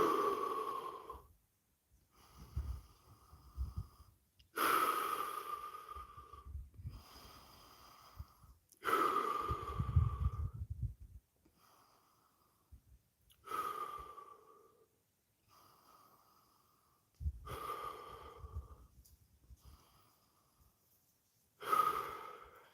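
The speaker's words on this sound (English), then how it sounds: "I have to probably catch my breath first." Heavy breathing after push-ups: about eight drawn-out, audible breaths, close and quiet, each deep inhale or exhale separated by short silences, with no talking.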